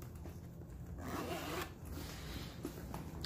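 A zipper on the front pocket of a black leather Chanel Deauville tote slides open in a steady, close raspy run lasting about three seconds, with no voices.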